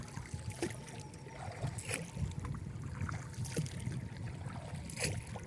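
A broken-down wooden boat rowed with two oars by an experienced boatman, with steady watery sloshing and soft splashes recurring about once a second, close by, beneath continuous low wind and water noise.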